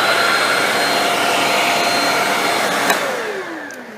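Shark Rocket handheld vacuum cleaner motor whirs loudly and steadily, then spins down with a falling whine after a click near the end; no one speaks.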